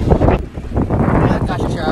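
Strong wind buffets a microphone outdoors during a delivery run, a dense continuous low rumble that stays loud for the whole stretch with brief dips.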